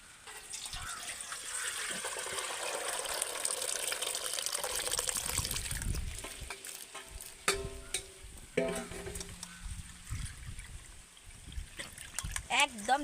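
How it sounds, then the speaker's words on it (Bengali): Blanched green peas are strained out of ice water: a close, steady rush of pouring and trickling water fades into drips, clatters and a few knocks from the strainer and bowl. "আবারও আমি মটরশুঁটিটা জল থেকে ছেঁকে নেবো"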